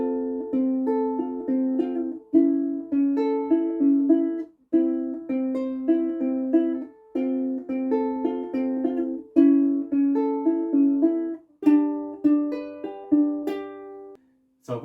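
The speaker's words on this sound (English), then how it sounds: "So I also learned to pluck more than one string at a time and then transition into doing some finger picking afterwards" Ukulele fingerpicking with several strings plucked together, bright melodic notes in steady phrases with brief pauses between them, close and clear with no talking.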